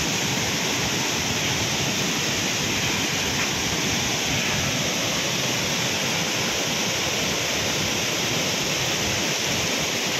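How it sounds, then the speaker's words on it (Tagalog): Dense, steady roar of heavily rushing floodwater at a waterfall swollen by a typhoon near Dumaguete, loud and unbroken throughout. "Medyo malakas na kasi yung tubig."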